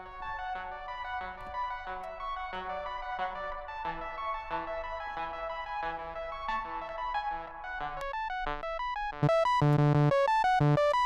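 Synthesizer chords run through an arpeggiator, sounding as quick, bright note patterns that step through changing harmonies, then shift to louder, sustained tones near the end.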